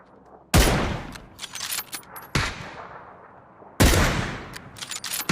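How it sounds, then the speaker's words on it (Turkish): Gunfire in the video game PUBG: three loud, sharp shots spaced a couple of seconds apart, each with a ringing decay, plus lighter clicks and rattles between them. "Hemen altımızdaki evlerden atıyor ama."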